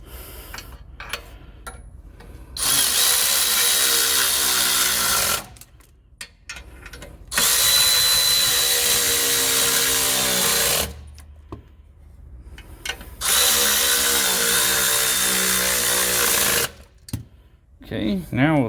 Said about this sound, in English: And get our nice little Milwaukee ratchet here.